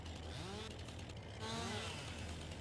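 A tractor engine in Farming Simulator 22 hums low and steady, its pitch rising and falling twice as it revs, fairly faint and heard without talk.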